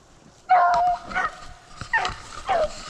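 Several beagles bay and yip while trailing a rabbit outdoors during hound training, giving loud, close, drawn-out howls and sharper yelps in uneven bursts across the clip.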